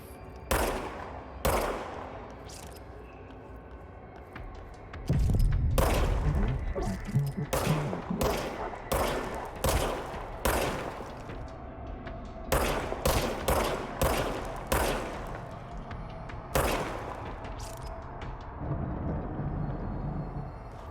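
Repeated gunfire in the video game Control, sharp close shots in irregular bursts, some single and some in quick clusters, with a heavier rumbling impact midway and no talking.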